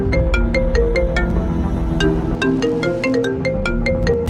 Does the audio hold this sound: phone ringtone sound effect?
yes